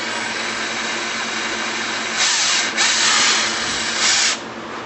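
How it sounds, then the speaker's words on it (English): A power drill boring a hole during a quadcopter build, heard as a steady whirring motor that swells into louder bursts in the second half over a constant background hum, with no talking. "Take the trusty drill"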